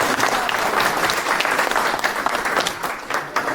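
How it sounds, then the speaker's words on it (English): Lively, sustained applause from an outdoor evening crowd at a coding event, dense and even, tapering slightly near the end. "another round of applause for yourselves"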